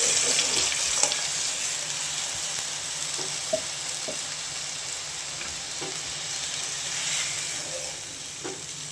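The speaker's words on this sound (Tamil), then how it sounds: "இப்போ நம்ம கரைச்சி வச்சுருக்கோம்ல மிளகாத்தூள் புளி தண்ணி அதை அப்படியே கலந்துட வேண்டியதுதான்." Tamarind and chili water is poured into a pan of frying onions and tomatoes, giving a steady hiss and sizzle with soft pouring and a few faint clinks, no voices.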